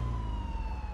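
An ambulance siren in the video game GTA 4: The Ballad of Gay Tony wails in a steady, sustained tone at fairly close range, with a low rumble of engine or traffic beneath it.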